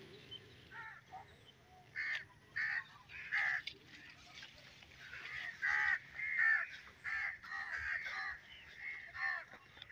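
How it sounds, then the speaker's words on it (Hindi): Crows caw repeatedly in harsh bursts against a quiet village farm background, several calls overlapping at moderate distance. "ये कौवे खड़े हुए हैं, कहाँ कहाँ कर रहे हैं इधर हमको देखकर।"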